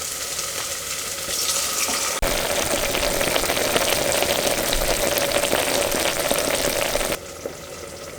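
White wine hits a hot pan of mussels and sets off a loud, steady sizzle that stays up for several seconds, then eases a little toward the end.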